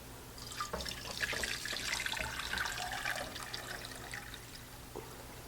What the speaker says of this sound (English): Now what we're going to do is fill our pot with water.